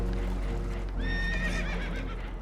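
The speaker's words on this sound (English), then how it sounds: "Horses are spooked, and we're taking on water." Spooked horses neighing and whinnying in a boat that is taking on water, a loud harmonic whinny rising clearly over a constant low rumble of water and movement.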